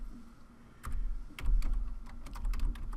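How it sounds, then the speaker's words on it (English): Keys on a computer keyboard are struck in a quick run of distinct clicks that thicken into a busier burst of typing, close and moderately quiet, with no talking. "I do have to go ahead and type out game load image background"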